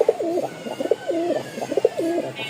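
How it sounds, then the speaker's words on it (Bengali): A female pigeon for sale at a bird market coos close by, a string of soft, rolling throaty calls repeating in a steady rhythm over a quiet background. "কবুতরই কথা বলবে"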